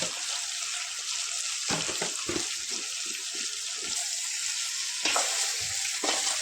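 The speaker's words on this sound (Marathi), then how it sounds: "हे बघा भाजी आता टाकली, हलवून घेईल चांगली एकदम मस्त." Vegetables for brinjal bharit (eggplant) sizzle and fry in a pan while being stirred, a steady close hiss with intermittent scraping stirs and no talking.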